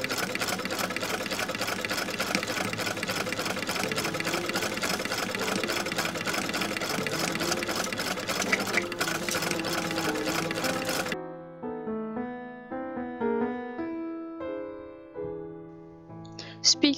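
A sewing machine stitches pockets together on a Victorian-style Slytherin robe, running in a steady, loud mechanical whir for about eleven seconds before stopping, followed by quieter tonal sounds.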